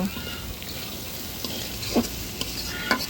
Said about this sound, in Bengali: শুটকিগুলো দিয়ে আমি এখন সবগুলো উপকরণ একত্রে ভালো করে মিশিয়ে নেব